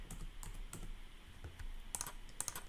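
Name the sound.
typing a library card number on a computer keyboard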